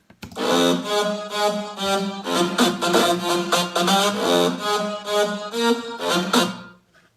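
A bright, dense synthesizer plays a sustained chordal line that fills the whole range, with rhythmic pulses throughout and no voices.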